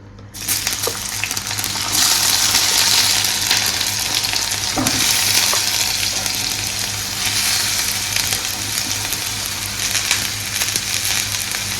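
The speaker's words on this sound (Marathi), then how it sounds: "तेल थोडं गरम होते मित्रांनो मग आपण मस्त आपल्या चॉप्ट केलेला कांदा टाकू" Chopped onion hits hot oil for an oyster gravy and fries with a loud, steady sizzle throughout, with occasional stirring scrapes and no talking.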